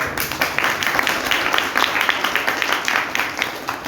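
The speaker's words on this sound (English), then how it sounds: "So give a round of applause to students." Applause at a girls' school program, with a room of listeners clapping steadily at moderate volume for a few seconds.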